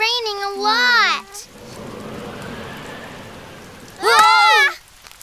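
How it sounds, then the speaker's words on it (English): Rain falls steadily in a soft hiss between two bursts of a voice talking close by. "Still raining a lot."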